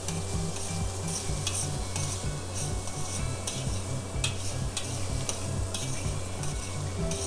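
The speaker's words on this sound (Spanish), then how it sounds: "Revolvemos." Tomato and paprika sofrito for a traditional Valencian paella is stirred in a hot pan, a steady scraping stir over continuous sizzling frying, close and fairly loud throughout with no voices.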